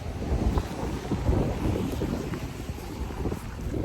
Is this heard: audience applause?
no